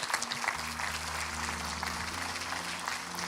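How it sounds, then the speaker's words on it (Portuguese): Church congregation applauding during a worship service, a continuous, fairly soft patter of many hands clapping over a low sustained musical hum. "Você pode aplaudir ao Senhor?"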